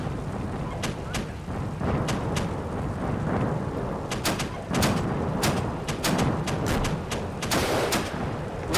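An RPG explodes against a tank in the Steel Beasts Pro PE battle near Willingen: a series of sharp, loud blasts and cracks over a steady rumbling din, with radio voices faintly underneath.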